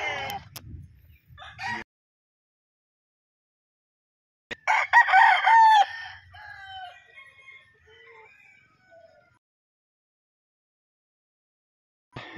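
Bullstag gamefowl rooster crowing loudly and close in one full cock-a-doodle-doo that trails off, with brief clucks and calls before it and otherwise quiet surroundings.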